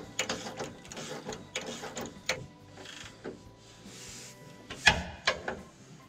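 A ratchet tightening 18 mm bolts on Ram 1500 Mopar front tow hooks gives bursts of quick clicking and metallic clunks close by, with pauses between strokes.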